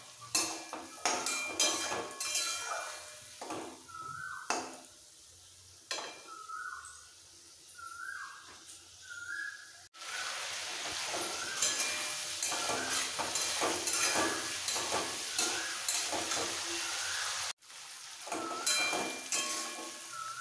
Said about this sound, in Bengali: মশলার সাথে আলুটা খুব ভালো করে কষিয়ে নিতে হবে